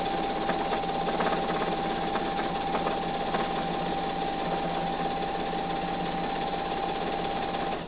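A sewing machine stitching while quilting fabric runs continuously in a fast, even, close mechanical chatter with a steady motor whine, no voices over it.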